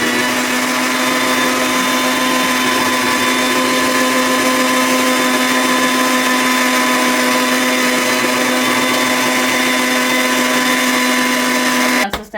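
A mixer grinder runs steadily, beating cake batter for a traditional homemade cake, with a loud, constant motor whine and a strong hum that holds unchanged for about twelve seconds before stopping abruptly at the end.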